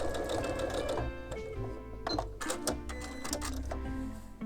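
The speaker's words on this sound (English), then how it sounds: "I'm going to sew the first one." A sewing machine stitches a Crow's Foot quilt block in a steady, close mechanical whir with rapid needle clatter and a few short pauses and restarts.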